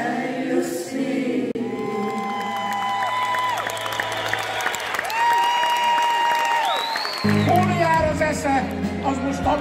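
Applause and cheering from a crowd at a 70th jubilee pop concert in a large hall roll on throughout, mixed with sustained vocal tones and voices, moderately loud.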